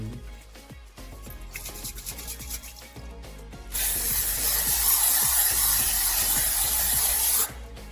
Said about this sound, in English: then I use this Pam Spray 0 calorie